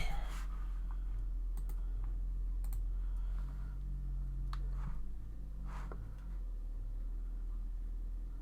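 Scattered clicks of typing on a computer keyboard, faint and irregular over a low steady hum.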